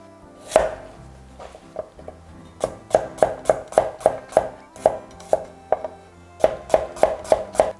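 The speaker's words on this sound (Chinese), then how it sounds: "我切2个蒜在里面" A knife chops garlic cloves on a board for quick summer pickles, sharp regular taps in fast bursts, close and loud, with short pauses between runs and no talk.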